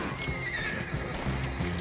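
A horse in the Western video game Red Dead Online neighs and whinnies amid hoof clatter and steady game noise, fairly close and loud throughout the brief moment.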